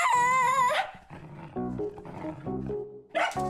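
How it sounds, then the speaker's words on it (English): A cartoon dog from The Fixies makes a strained, howling vocal cry, then a series of low, rough growling sounds in short uneven bursts, ending on another sharp cry. "Ungrateful dog."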